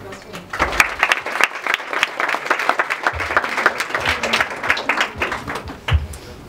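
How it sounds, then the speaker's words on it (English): Audience applause welcoming an architect at an academic lecture event, a burst of many hands clapping with distinct individual claps, swelling after a brief start, then thinning out as it ends. "please a round of applause for him."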